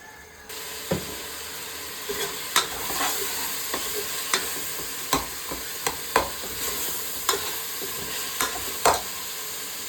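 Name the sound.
stir-frying chicken with dal in a pot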